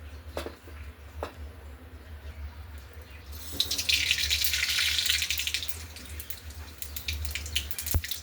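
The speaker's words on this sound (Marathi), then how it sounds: "मोहरी छान तडतडली" Mustard seeds hit hot oil in a kadhai: after a few soft clicks, a dense crackling hiss swells up and carries on, close by.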